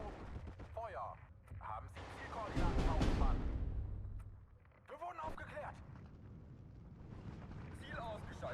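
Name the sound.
mortar fire explosions in video game Steel Division 2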